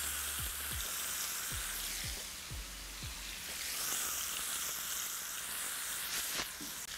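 Chicken pieces frying skin side down in butter in a pan for Portuguese chicken, a dense, even sizzle with soft crackle and a few low knocks at the start.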